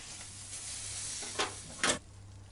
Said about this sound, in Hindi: अब वेजिटेबल को फ्राई करेंगे।